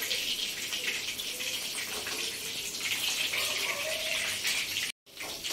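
Chicken pakoda fries in oil over a low flame, giving a steady, even hiss and crackle up close that cuts out for a moment near the end.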